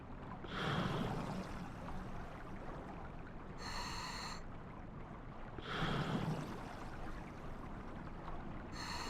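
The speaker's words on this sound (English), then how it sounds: "listen to him breathing." Slow, heavy breathing from a character in GTA Online, rising in two long breathy swells with soft whooshing exhalations and brief tonal game sounds in between, close and fairly quiet.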